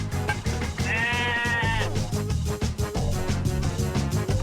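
A single wavering sheep bleat in the video game The Simpsons: Skateboarding rises over loud, steady background music and game sounds.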